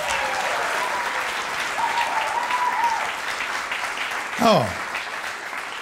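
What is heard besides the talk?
audience applause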